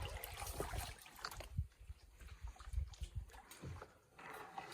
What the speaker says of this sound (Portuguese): Mamãe que vai remando aí na frente.